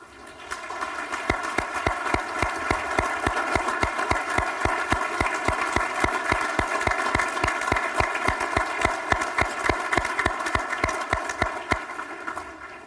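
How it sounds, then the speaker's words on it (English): Members of the Urban League stand while an audience gives them a sustained round of applause, steady dense clapping that continues throughout at a fairly even loudness. "please stand so that we can give you a round of applause"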